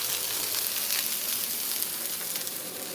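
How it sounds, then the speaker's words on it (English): Lamb sears in a hot pan with a steady, dense sizzle that holds at an even loudness throughout, close and continuous with no talking. "I just want to get it nice and seared."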